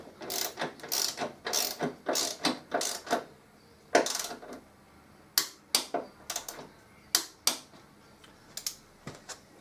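Ratchet wrench clicking in quick bursts while spark plugs are tightened on a 2014 Harley-Davidson Electra Glide, with rapid close-up pawl clicks in short repeated runs and brief pauses between strokes.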